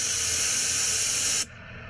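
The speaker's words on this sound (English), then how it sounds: "Just keep spraying until the bear stops." A can of bear spray discharges in a loud, steady, broadband hiss close by for about a second and a half, then cuts off abruptly, leaving quieter background.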